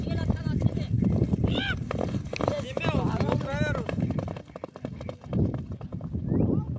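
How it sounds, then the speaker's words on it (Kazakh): Horses galloping hard in a long-distance Kazakh alaman baiga horse race at a village celebration, rapid hoofbeats and clip-clop under lively excited talk, with wind noise on the microphone. "Міне екі ат тіресіп келе жатыр"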